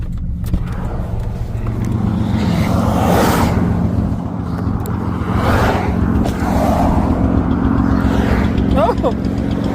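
A straight-piped green V6 five-speed car with its exhaust pipe blown off rumbles loudly and steadily up close, with engine surges and wind noise; people talk over it.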